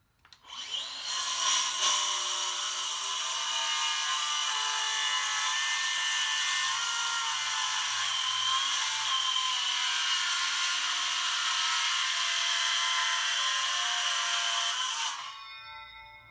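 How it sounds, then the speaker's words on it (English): Table saw ripping old hardwood boards lengthwise in a home workshop, a loud sustained whining cut that starts abruptly, holds steady for about fourteen seconds, then winds down to quiet. "The 2 boards were ripped in half to give me the 4 pieces that I needed."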